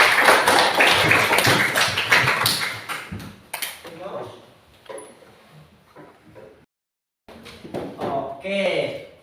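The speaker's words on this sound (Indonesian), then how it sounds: "Tepuk tangan buat teman-teman kalian." A classroom of students claps for their classmates in a burst of dense, brisk applause lasting about three seconds, then a few scattered taps and rustles under talking.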